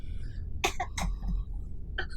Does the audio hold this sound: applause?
no